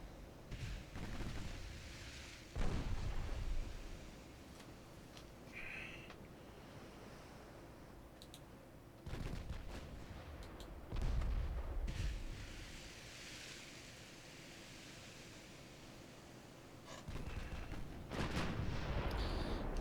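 Naval guns in a battlecruiser warship video game boom out in heavy, rumbling salvos every few seconds over a constant wash of sea and wind, each blast broad and low, with brief higher crackles between.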